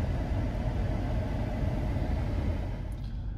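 A GM V8 engine with AFM/DOD cruising in L5 on the freeway, a steady low rumble of engine and road noise heard from inside the cabin, even and continuous throughout.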